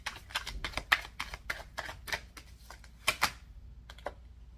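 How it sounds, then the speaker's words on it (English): A run of quick, crisp flicks and riffles as a deck of cards is shuffled, irregular snapping bursts close by with short pauses, no voices. "I'm going to shuffle."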